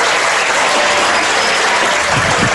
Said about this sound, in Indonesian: Boleh tepuk tangan buat Ustaz Selamat.